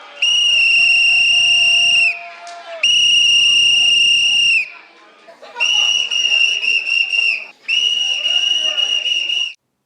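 A protester's whistle shrills in long, loud blasts during a heckled university talk, four sustained bursts with short gaps between them and crowd noise faintly underneath.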